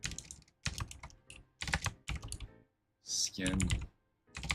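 Typing on a computer keyboard in bursts of rapid key clicks separated by short pauses, close and fairly loud, with no talking over it.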